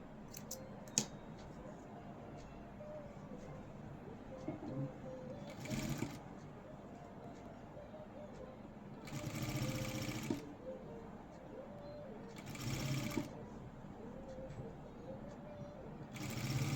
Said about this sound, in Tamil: இழுக்காமல் ஃபுல் ரவுண்டு தைச்சிக்கோங்க.